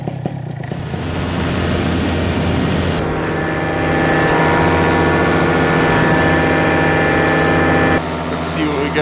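A paramotor engine runs in flight with a loud, steady droning buzz that rises slightly in pitch midway and holds constant, with rushing wind throughout.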